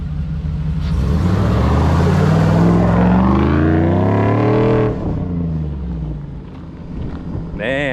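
A tuned V8 Jeep Wrangler accelerates on a back road, its engine a loud, deep, rising rumble that holds for several seconds, then eases off. Wind noise buffets the microphone throughout.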